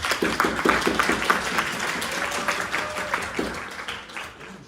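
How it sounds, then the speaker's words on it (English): A classroom of students breaks into a short burst of applause, with brisk overlapping claps close by. The clapping fades over a few seconds and a voice murmurs underneath. "Can you get a round of applause?"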